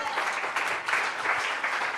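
Congregation clapping during a Spanish-language church service, a brief dense burst of applause from a room full of people, steady and fairly loud.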